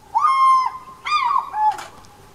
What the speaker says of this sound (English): That's what an African fish eagle sounds like when he's caught a fish.